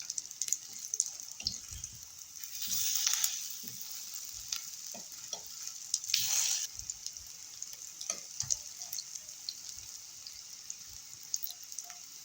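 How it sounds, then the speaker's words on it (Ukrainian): Battered mushroom-filled waffle rolls frying in oil in a pan, a steady close sizzle with two louder hissing surges as pieces are laid in, plus light clicks and scraping from turning them; no speech. "І гарненько обсмажимо з обох сторін."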